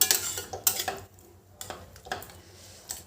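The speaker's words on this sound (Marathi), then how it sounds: "पहा किती मऊ शिजलेली आहे अगदी चमच्याने हलवता तुम्ही स्मॅशरने पण करू शकता" A spoon works through soft, well-cooked Khandeshi brinjal curry in a pot, making close, repeated clinks and soft scrapes against the pot, some quieter squishy stirring between them.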